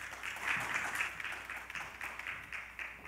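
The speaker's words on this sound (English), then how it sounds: "a big round of applause to welcome Sue Ellen Christian" Fairly quiet, steady applause from the audience welcomes a keynote speaker at a media literacy talk, a soft even clatter of many hands heard from a distance.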